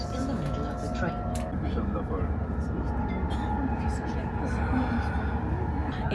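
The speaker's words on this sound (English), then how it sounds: "This train is fast." A fast passenger train bound for Stockholm, heard from inside the carriage, gives a steady low rumble and rolling hum with faint clicks, constant throughout.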